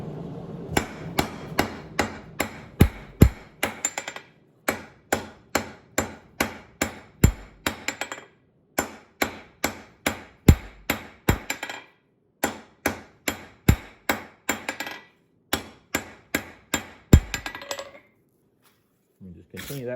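A hammer strikes hot metal while forging a chamfer on the end of a wrench, in fast, ringing rhythmic blows grouped in bursts with short pauses, close and loud.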